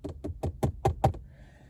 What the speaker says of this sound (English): so I can literally knock on wood.